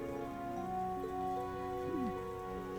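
Steady, soft rainfall in the video game Trails of Cold Steel III, a continuous hiss of drops on surfaces beneath quiet sustained background music, with no voices.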